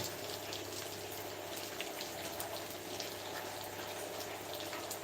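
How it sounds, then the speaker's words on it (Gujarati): Heavy rain pours down with water flowing and gushing nearby, a steady dense wash of noise that holds at an even level throughout, with no voices. "ભૂંગરા ચાલુ છે વરસાદ ચાલુ છે"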